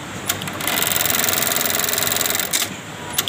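A Juki LK-1900AN industrial bartack sewing machine runs a cycle after an error 306 repair, a loud, rapid steady stitching rattle lasting about two seconds, framed by sharp mechanical clicks before and after.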